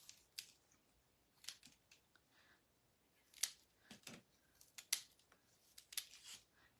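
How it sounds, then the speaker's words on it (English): Cheap Dollar Tree scissors snip through a moss sheet stiffened with hot glue, giving a dozen or so crisp, uneven cuts up close in a quiet room. "These scissors are from the Dollar Tree, so sometimes I like to use them on stuff that I know I'm not going to care if they get wrecked"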